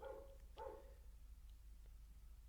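A small dog gives two short barks close by, each a brief sharp yelp, with faint quieter sounds and steady low background hum in between.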